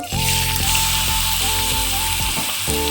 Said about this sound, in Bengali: প্রথমে ডালটা ভেজে নেব।